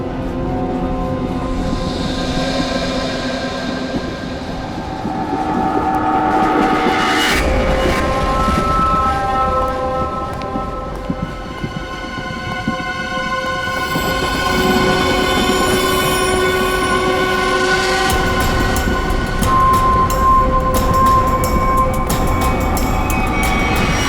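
A moving train rumbles loudly and steadily, with wheels squealing on the rails and long, high metallic screeches rising and fading over the roar.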